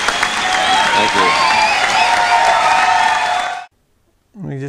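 A crowd claps and cheers loudly for about three and a half seconds, applause and whoops together, then breaks off abruptly into silence before a voice starts speaking.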